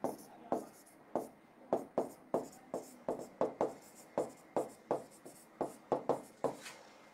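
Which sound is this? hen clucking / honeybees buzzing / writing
writing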